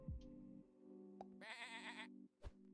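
A sheep in the Super Auto Pets game gives a short, clear bleat, heard alone amid a few soft electronic tones and clicks.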